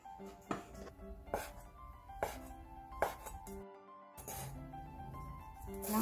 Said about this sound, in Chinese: 我现在切这个是鱼饼